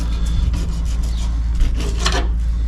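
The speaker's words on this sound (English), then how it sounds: "Scrape as close to the bones as I can on the other side." A knife scraping a fish fillet close along the skeleton after a Great Barrier Reef catch, giving short rasping strokes up close, a few sharper scrapes standing out, with no talk.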